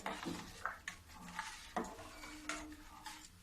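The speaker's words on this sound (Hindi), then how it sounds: "अब इसको मैं चलाते रहूंगी जब तक उबाल नहीं आएगी, तब तक मैं चलाते रहूंगी" A spoon scrapes and clinks against a pot while beetroot kadhi is stirred until it boils, giving irregular soft knocks and scraping strokes close by, with a faint sizzle underneath and no talking.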